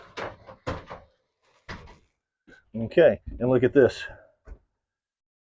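Sliding closet doors in the bedroom of a large RV toy hauler rumble and thump open in a few short bursts, interleaved with a person talking nearby.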